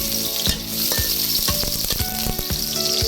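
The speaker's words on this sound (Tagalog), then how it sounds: "ibutang na ang bawang muna" Chopped garlic sizzles and crackles steadily as it fries in hot oil in a pan, with a few stirring scrapes, loud and close throughout.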